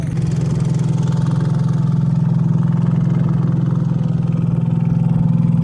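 A steady, droning engine on a motorized banca boat near Hagonoy, Bulacan, Philippines chugs at a constant idle, loud and close, with no talking over it.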